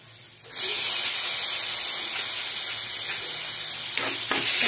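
Tomatoes hitting a hot frying pan, bursting into a loud, steady hiss that holds for several seconds after a quieter start, with faint stirring clatter near the end; no voices.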